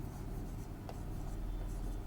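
Chalk or marker writing on a board during a grammar lesson, a faint scratchy stroke over a low steady room hum, brief and close.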